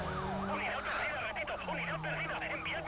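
Several police sirens wailing in overlapping, rising and falling sweeps during a chase in Need for Speed Most Wanted, fairly loud over engine hum, with a voice talking at times.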